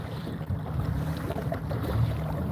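Gusty wind blowing outdoors, a low rumbling roar buffeting the microphone continuously with no talk, steady and fairly quiet throughout.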